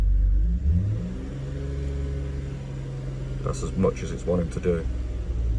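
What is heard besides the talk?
car engine revving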